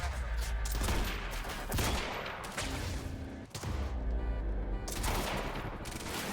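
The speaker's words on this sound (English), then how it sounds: "Who else is shooting at me?" Dense rapid gunfire in the video game Quantum Break, continuous bursts that keep going with brief breaks, loud and close, with a steady low rumble underneath.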